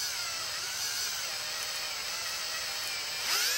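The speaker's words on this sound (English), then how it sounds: "I put an eighth inch drill bit here in my hand drill, and now I'm just going to drill this out" A steady, high-pitched whine of a small hand drill with an eighth-inch bit boring through a brush cutter handle, running continuously with a slight rise near the end.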